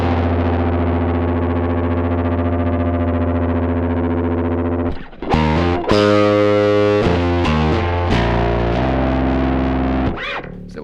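A bass guitar runs through a Zoom B2 effects pedal with heavy reverb and distortion: a long sustained ringing chord decays evenly, then a run of plucked notes follows, each washing into a thick, lingering tail.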